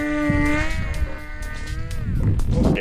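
A Black Bird model airplane's motor is pushed to full throttle, giving a close, strained whine that wavers and bends in pitch, with rough gusty noise building at the end.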